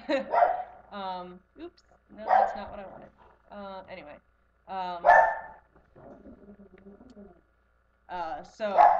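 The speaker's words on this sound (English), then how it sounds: "Apologies for the dog." A dog indoors barks in short bursts off and on, nearby and fairly loud, while a person talks in between.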